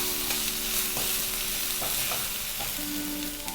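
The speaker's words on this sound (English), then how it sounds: "I'll just saute it for a minute." Chilies with crushed ginger and garlic sauté in a pan for chicken fried rice, a continuous dense sizzle broken by light stirring taps, with a faint tonal hum in the background; close and steady, no talking.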